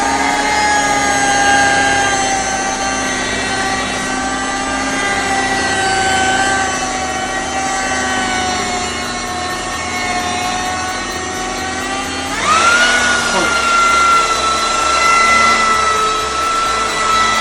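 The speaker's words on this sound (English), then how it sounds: "I'll just have to carry on polishing on this section over here" A power polisher working a section of a surface gives a loud, steady motor whine with shifting tone, then a sharp pitch change partway through as the load changes, with no talk.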